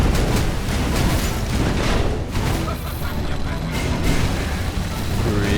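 Explosions in the video game Skul: the Hero Slayer, a dense, loud rumbling barrage of booms and blasts running throughout, with a voice talking over it.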